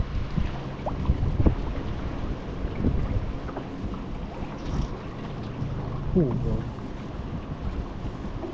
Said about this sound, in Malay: Tak ada angin tu. Sampai tu udah angin.